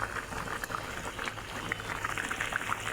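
Banana flower kofta curry bubbling in a pot, a soft, continuous simmer of small pops and gurgles, faint and steady throughout with no talk.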